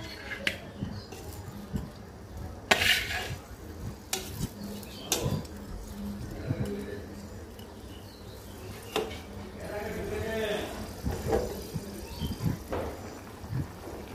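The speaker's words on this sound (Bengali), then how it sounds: "ভাজা মাছগুলো উপর থেকে দিয়ে দিব।" Fried rui fish is added to a simmering curry of potol and potato, with scattered clinks of a spoon against the pot, soft stirring scrapes and a faint sizzle heard close and fairly quiet.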